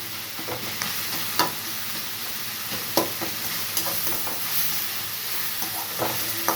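Onions and tomatoes stir-frying for a mushroom fry, a continuous sizzle broken by repeated sharp scraping strokes of a spoon against the pan, fairly close and loud.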